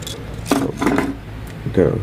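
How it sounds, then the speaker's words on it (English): A metal chainsaw-sharpening file rasps across a blade in three short, separate strokes, close and fairly loud, with a quiet hum underneath. "I'm gonna sharpen it with a file."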